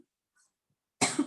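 A single harsh cough from someone in a shared room, sharp and close, bursting out after a near-silent pause.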